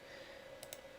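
A pair of quick, faint mouse clicks while working in Dreamweaver, two close taps over a steady low electrical hum.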